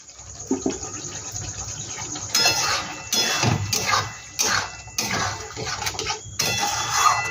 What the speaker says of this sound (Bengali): এবার আমি আন্দাজ মতন জল দিয়ে দেবো।